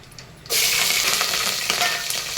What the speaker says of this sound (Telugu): అనాస పువ్వు, పెద్ద ఇలాచి, ఇవన్నీ వేసేసి వేపాలి.